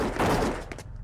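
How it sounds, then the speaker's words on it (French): Detonations and gunfire-like bangs in the cartoon Totally Spies!, a short cluster of rapid cracks and booms with no voices. "J'espère que ce qu'on entend, c'est des feux d'artifice et rien d'autre. Les détonations viennent de ce côté-là."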